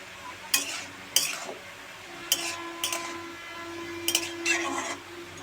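Chopped onion frying with chicken pieces for an egg chicken roll, a soft sizzle under several sharp utensil scrapes and clinks as the mix is stirred in the pan, close and moderately loud.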